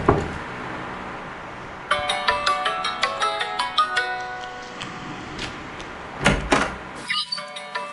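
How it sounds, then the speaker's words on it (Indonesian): A phone rings while a call is placed, starting after a brief hum with a bright, repeating melodic ringtone of quick tonal notes that plays on loudly, followed by a louder knock-like thud near the end. "Sudahlah, mending telepon Laoyo saja."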